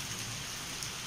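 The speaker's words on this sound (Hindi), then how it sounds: "तो अभी 2 घंटे से बारिश हो रहा है, अभी भी बारिश रुकने का कोई नाम नहीं है।" Steady rain falls after two hours of continuous downpour, a dense even hiss of drops on surfaces with no voices.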